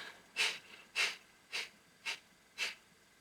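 Five sharp, forceful nasal exhales of kapalbhati yoga breathing come about half a second apart in an even rhythm, close to the mic against a quiet background.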